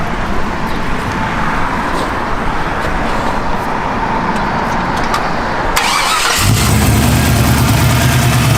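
A 1967 Chevrolet C10 pickup truck engine idles with a rough, steady rumble, then revs up and settles into a louder, deeper drone; close and loud, no talking.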